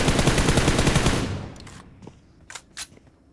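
Rapid automatic gunfire from a video game rattles loudly in a dense burst, then trails off. A couple of sharper single shots follow in the quieter tail.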